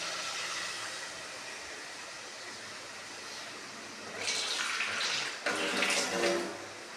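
Water pours into a kadai of cooking mutton, a faint background hiss swelling into two louder splashing bursts near the end.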